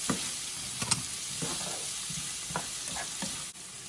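Sugar sauce sizzles steadily in a hot pan, a constant frying hiss broken by a few soft stirring clicks and scrapes, close up with no talking.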